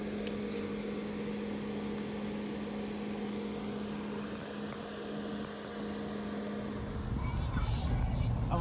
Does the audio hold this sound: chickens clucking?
no